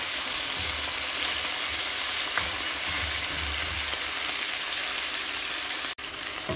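Pork steak frying in a pan, a loud continuous sizzle and crackle that holds steady throughout, with one brief dropout near the end.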